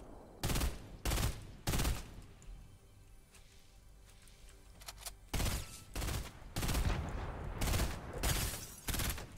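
Grenade blasts and gunfire in the Fortnite battle royale game: a rapid series of loud explosive bursts, then a quieter stretch, then more heavy repeated blasts, up close.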